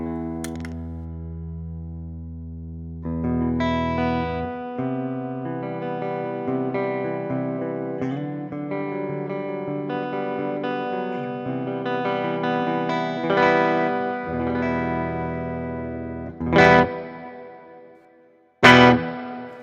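Electric guitar with humbucker pickups driven through a JHS overdrive plugin into a modeled Alnico speaker, playing sustained gritty chords and single notes with a warm, hairy crunch, ending in a couple of sharp strummed hits.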